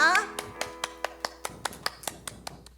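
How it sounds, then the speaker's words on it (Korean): A children's Sunday worship congregation clapping hands in praise, a short run of sharp claps at a brisk even beat after a brief sung or spoken tone, fairly close. "우리 생명의 그리신 주님께 영광 박수 올리겠습니다"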